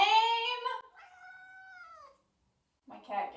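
A cat gives a loud, drawn-out meow up close, then a second shorter call after a brief silence.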